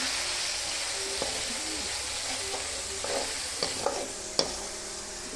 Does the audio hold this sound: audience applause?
no